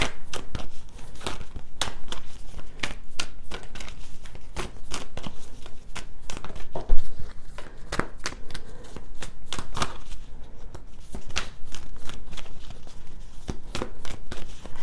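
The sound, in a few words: shuffling a tarot card deck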